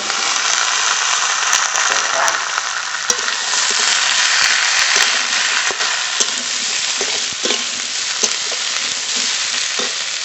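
Sliced eggplant sizzling and frying steadily in a hot pan for a rural-style Bengali mixed vegetable dish, with occasional clicks of stirring over a constant loud crackle.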